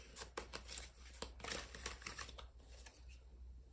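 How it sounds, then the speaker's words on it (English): Tarot cards are shuffled by hand in a series of quick riffling, slapping bursts, close and fairly quiet. "let me just shuffle"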